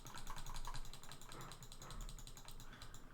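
Computer keyboard keys and mouse buttons tap in quick, light, rhythmic clicks during digital painting work, a close, fairly quiet patter of strokes with no voices.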